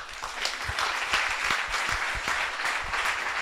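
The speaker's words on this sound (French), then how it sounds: "on va l'applaudir pour passer à quelqu'un d'autre" A live audience at a startup pitch show breaks into steady, even applause, many hands clapping at close range throughout with no voices over it.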